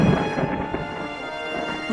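Cartoon thunderstorm with steady rain hiss and low rumbling thunder, continuous and fairly loud throughout, no voices.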